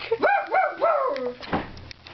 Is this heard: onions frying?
no